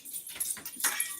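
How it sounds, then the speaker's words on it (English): Dogs bark and whimper indoors in a home in short yelping bursts, fairly close but moderately quiet. "the dogs are barking"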